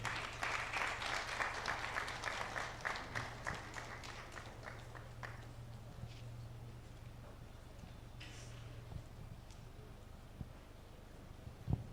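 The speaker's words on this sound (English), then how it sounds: "Please, a round of applause for Rexford Redu to give us the opening prayer." Applause from a conference audience at an insurance sales gathering, with dense clapping in the first few seconds that gradually thins and fades into quieter room noise and a low steady hum.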